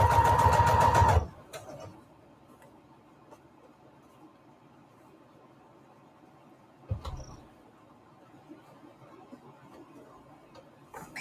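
Sewing machine stitching lace onto an index card, a short burst of rapid mechanical stitching at the start, then a quieter stretch with a brief second burst midway, close up.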